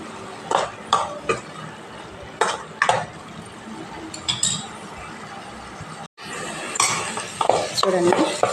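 Masala for vegetable biryani is stirred in a pan with a metal spoon, giving repeated close scraping clinks against the pan, spaced irregularly, with a brief break midway.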